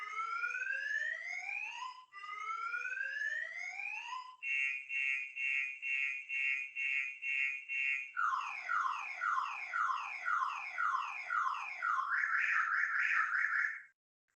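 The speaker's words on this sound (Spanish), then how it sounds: "esperen que se desató la alarma en mi casa" A home alarm goes off in a house, sounding as loud electronic tones: rising swept whoops, then a steady pulsing beep, then rapid warbling chirps. It runs continuously and close, with no talking over it.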